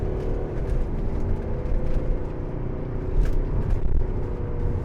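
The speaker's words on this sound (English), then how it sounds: "it sounds great for a diesel engine as well." A 2012 Mercedes-Benz SLK250 CDI BlueEFFICIENCY with a diesel engine and 7G-Tronic gearbox drives along, its steady engine drone and road rumble holding throughout with slight swells.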